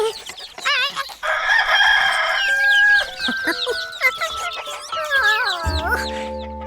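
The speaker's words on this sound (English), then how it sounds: "We just have the one rooster." A farm rooster crows loudly nearby among clucking chickens, its drawn-out call rising and falling over several seconds in a cartoon setting.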